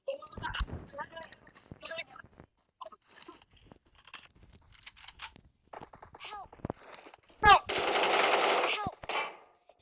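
Gunfire in a video game: quick bursts of shots and a sustained noisy burst of fire near the end, heard alongside excited talking throughout.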